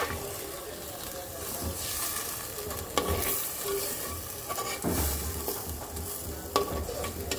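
Chicken biryani masala sizzles and hisses steadily in a pan right after a splash of water is added, with a few stirring scrapes along the way and no speech over it.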